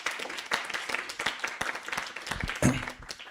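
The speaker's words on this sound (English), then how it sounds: "Clap for them. Clap for them." Scattered, uneven clapping from an audience at a bootcamp event, individual claps audible rather than a full roar, with a louder burst near the end.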